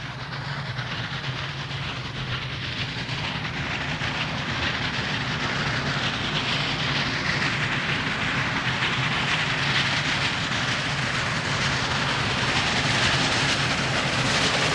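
Union Pacific 3985 steam locomotive teamed with E9 diesels climbs the Cajon Grade, a continuous, dense roar of engines and rolling rail cars with steady hiss and rumble, no voices.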